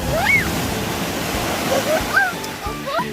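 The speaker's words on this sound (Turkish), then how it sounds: "Çok büyük dalgalar geldi Yusuf." Large sea waves wash and roar steadily at the shore, loud and close with wind noise, while a voice and other voices sound faintly over the surf.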